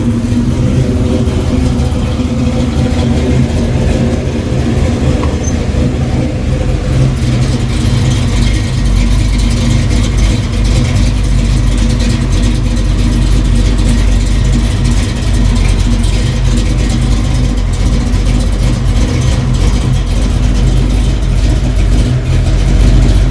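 Classic car engine after carburetor adjustment and timing set at a garage, idling loud and close with a steady, continuous rumble for over twenty seconds.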